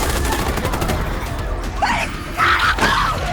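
A rapid burst of gunfire crackles loudly in a Korean drama, mixed with dramatic music and effects, followed by sharper bangs near the end.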